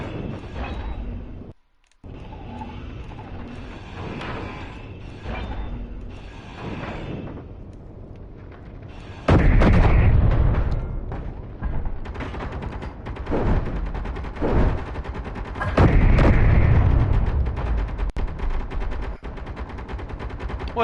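Bursts of video game gunfire from a drone attack, sporadic shots early on, then loud, dense volleys of rapid automatic fire with heavy booming impacts through the second half.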